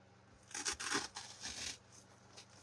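Scissors snip and tear through Halloween decoration material for a disco pumpkin centerpiece, a few close crisp cutting bursts with brief pauses between them, no voices.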